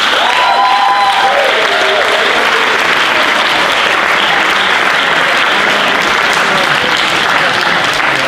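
A hall of new university students at an induction session breaks into loud, sustained applause, a thick continuous clatter of many hands that holds steady for over eight seconds.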